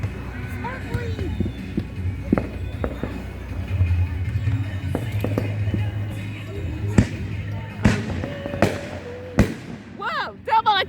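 Several firework bursts from a backyard display, sharp bangs arriving closer together toward the end, including a quick double pop, beneath ongoing chatter and exclamations from onlookers.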